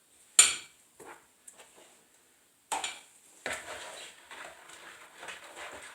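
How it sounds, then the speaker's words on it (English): Bread dough being mixed by hand with a spoon in a bowl, giving a sharp knock against the bowl followed by scattered soft scrapes and clinks, then a longer stretch of continuous stirring and scraping close by. "So I'm going to mix all this together until I can't mix it anymore with a spoon"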